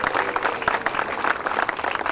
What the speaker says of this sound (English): Jack Hamilton, give him a round of applause.